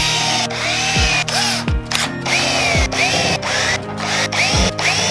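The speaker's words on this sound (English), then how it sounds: "drill all our pilot holes, counter flush, round this thing over" A power drill bores pilot holes in a board for mounting car stereo amplifiers in a Chevrolet Camaro, its motor whining loud and close in repeated bursts that spin up and wind down.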